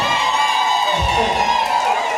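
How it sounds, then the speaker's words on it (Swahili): Wedding guests ululate in high, sustained trilling cries that layer over a lively crowd, loud and close with festive cheering throughout. "Jamani, vigelegele vingi sana kwa"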